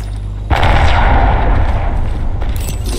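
Frag grenade blast in the Apex Legends shooter: a sudden loud boom at about half a second, then a dense, rumbling roar of debris and gunfire-like crackle that holds strong to the end, with a fresh burst near the close.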